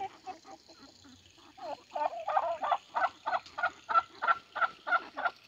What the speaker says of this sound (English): she actually does a lot of clucking like a hen